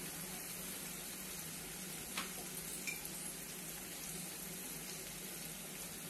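Noodles being stir-fried in a pan with red and green chili sauce, a steady sizzle with faint stirring scrapes running throughout at moderate level, with no talking.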